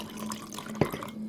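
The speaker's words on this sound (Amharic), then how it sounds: "ለብ ያለ ውሃ እንጨምርበታለን።" Lukewarm water is poured into a bowl of sugar-based bread dough mixture, a brief, faint trickle and splash in a quiet kitchen.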